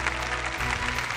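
Lecture-hall audience at a public archaeology talk applauding a speaker, a brief burst of dense, moderately loud clapping with no voices over it.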